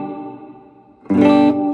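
Electric guitar played through an M-VAVE Mini Universe reverb pedal on its room setting, a sustained chord fading with a short ambient tail before a louder, brighter strum rings out near and clear.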